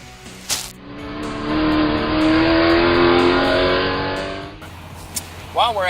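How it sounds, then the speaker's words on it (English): A NASCAR race car accelerates along a track, its engine roar swelling and rising in pitch as it passes close by, then fading, with short sharp noises at either end. "You may get a chance to actually drive a NASCAR race car."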